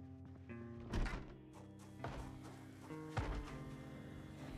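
A zombie bangs on a door in the survival game Project Zomboid: three or four dull, heavy thumps spaced about a second apart, fairly faint under a sustained musical backing.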